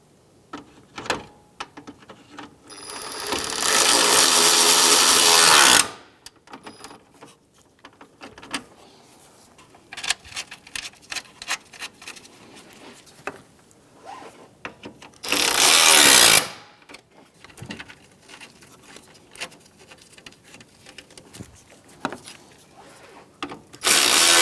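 Impact driver or drill running bolts into a fan assembly on the radiator of a 2007-2015 Mazda CX-9 during an A/C condenser replacement, two sustained loud whirring bursts separated by clanks, rattles and handling of parts.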